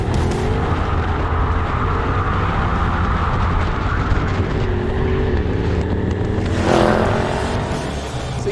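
An Audi RS6 or Mercedes-AMG E63S wagon roars loudly up close as it slides, with continuous engine and tyre noise and a brief surge near the end, no talk.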